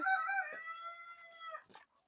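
A rooster on a poultry farm crows nearby in one long drawn-out call, followed by a few short clucks.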